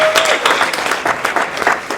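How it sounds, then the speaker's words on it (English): Audience applause at a charity event, dense steady clapping from a crowd that stays loud and even for the full two seconds, with a faint voice briefly audible underneath. "give her a round of applause"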